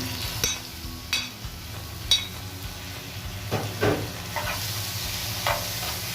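Sliced chicken stirred into sizzling onion and garlic in a pan for chicken asparagus, a steady frying hiss broken by several sharp scrapes and clatters of the utensil against the pan, close and fairly loud, with no talking.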